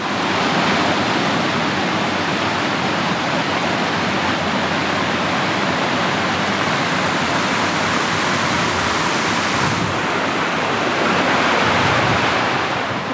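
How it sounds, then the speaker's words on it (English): A small waterfall where two stream branches rejoin: a continuous, loud rush of falling water, close by and unbroken, with no voices over it. "this takes us down to the top of that little waterfall at the bottom where the two branches join back up again."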